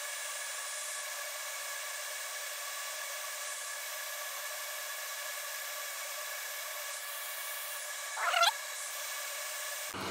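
A hot air rework station set to 500 degrees and 70 liters blows onto a circuit board during Microsoft Surface data recovery. It makes a steady, even airflow hiss with a brief louder scrape near the end before cutting off.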